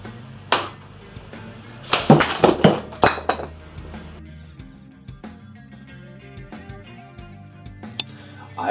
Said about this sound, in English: Let's see if I can chop this from the wrist.